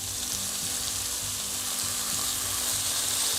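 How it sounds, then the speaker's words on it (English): Marinated chicken pieces sizzle steadily in a hot pan on medium-high heat, a dense, even crackling hiss heard close up with no talking. "Marinated chicken is ready to go down. Oh, yes, sizzle, baby, sizzle."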